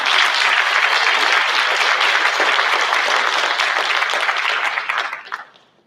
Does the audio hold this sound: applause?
yes